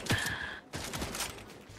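Fortnite gunfire crackles as a quick burst of sharp shots, a brief pause, then a dense rattling volley, all at moderate distance with no talking.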